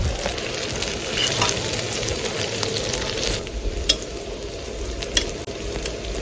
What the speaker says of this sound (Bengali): পেঁয়াজ, মরিচ আর রসুনটা একটু লাল লাল করে ভাজা হলে তারপরে এই শাকগুলো দিয়ে দেবো